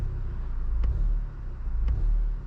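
A car running on E85 ethanol fuel idles with a low, rumbling engine tone while the gas pedal is lightly tapped, giving two brief swells in the revs over a steady throb.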